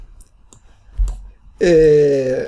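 Computer keyboard keys click a few times, sparse and close, while HTML is typed, followed by a short voiced sound near the end.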